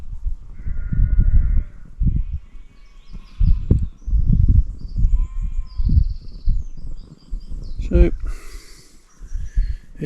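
Sheep bleat repeatedly from a flock grazing in a grassy bowl near an upland reservoir, close and fairly loud calls overlapping with a brief sharp snort near the end.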